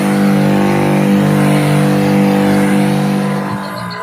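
A small engine on a motorized sprayer drones steadily and loudly, a constant buzzing hum that dips slightly near the end as it keeps running.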